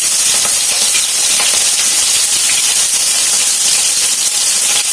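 Green chilies fry in hot oil with cumin seeds already in the pan, a loud, close, steady sizzling hiss with crackling spatter that stays even throughout.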